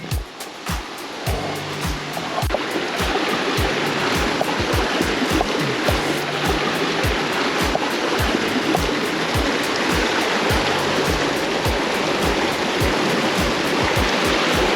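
A waterfall between Khe Sanh and Phong Nha pours in a loud, constant broadband rush, with rhythmic footsteps or thumps repeating steadily throughout as someone moves nearby.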